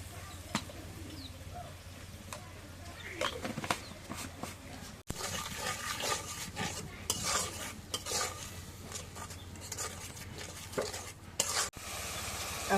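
Turmeric-and-salt spice paste fries in a pan while a spoon stirs and scrapes it, giving a steady close sizzle with irregular clinks and scrapes throughout, with no talk.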